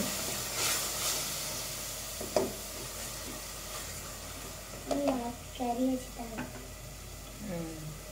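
Vegetables sautéing with rock salt in a pan for vegetable biryani, a soft steady sizzle under faint stirring clinks, with a voice speaking over it at times.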